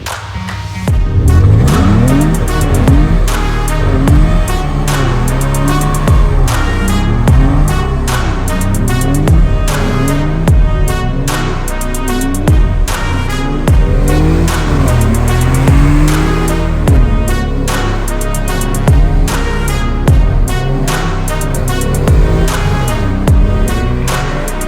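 A car doing a burnout: a very loud, close engine revving hard in repeated surges while tires squeal continuously throughout, with no talk.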